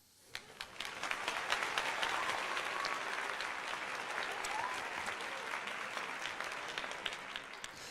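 Crowd applause and cheering rise across a baseball stadium during a Phillies at Cardinals game after a nice defensive catch, a steady, moderately distant wash of clapping that holds throughout.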